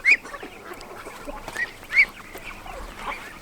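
Ducks and young ducklings, including white ones, let out a few sharp, close quacks and honks at uneven intervals, with soft rustling and faint background noise between the calls.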